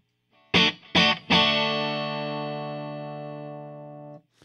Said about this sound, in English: So you get that almost real quick peak distortion out of your amp as well